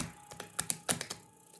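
A deck of playing cards shuffled during a magic trick: a quick, quiet burst of crisp riffling clicks lasting under two seconds, with no talking.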